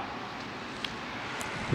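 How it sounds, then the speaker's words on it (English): Wind blowing outdoors, a steady broad rumble buffeting the microphone throughout, with no voices. "Damn, it's windy out there."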